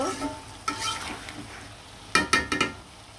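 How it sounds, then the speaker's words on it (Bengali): Beans, potatoes and tomatoes are stir-fried in a pan with a soft sizzle, broken by a few scrapes and clinks of a utensil, including a quick cluster near the end, with no talking. "সিমগুলো, আলুগুলো, টমেটোগুলো কিন্তু খুব সুন্দরভাবে নাড়াচাড়া দিয়ে কষিয়ে নিলাম।"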